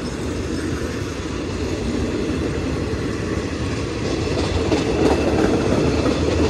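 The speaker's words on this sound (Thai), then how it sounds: "ก็เป็นรถนำเที่ยวนะคะเขื่อนป่าสักชลสิทธิ์นะคะไปแล้วค่ะก็ขบวนรถเที่ยวนี้โอ้ใหม่ทั้งริ้วเลยนะคะทุกคน" A tourist excursion train bound for Pa Sak Jolasid Dam rolls through a station, loud and close, with continuous rumbling and clickety-clack of wheels on rails and a slight rise toward the end.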